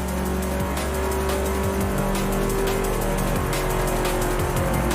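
Car driving in Forza Horizon 4 played with a PXN V3II wheel: a continuous loud engine drone with shifting revs and tire noise, steady throughout and alone.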